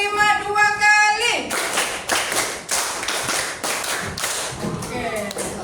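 A classroom group claps a counted routine of five claps done twice, giving a rapid series of crisp, close handclaps after a brief spoken lead-in.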